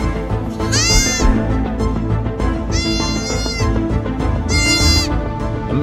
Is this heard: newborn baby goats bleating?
yes